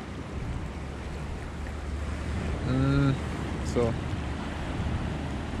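Water rushing out of a wide river mouth in bad weather, a loud, steady outdoor roar mixed with wind, while someone speaks briefly partway through.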